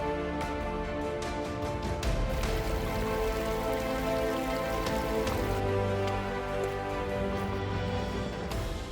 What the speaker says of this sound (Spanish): no para de lloviznarnos a nosotros